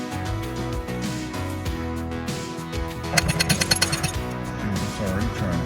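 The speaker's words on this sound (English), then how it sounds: "he's removing the teak plug or bung that's covering where the bolt is" A teak wood plug being gouged out over a boat's bolt, with a run of sharp, rapid tapping and chiselling strikes in the middle over a busy background of hum and clatter.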